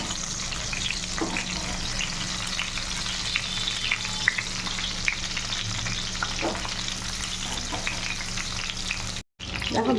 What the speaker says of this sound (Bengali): এবার ভেজে নেব ফ্রাই প্যানের মধ্যে।